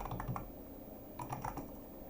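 Quiet close keystrokes on a computer keyboard while Solidity code is typed, two short bursts of clicks separated by a brief pause.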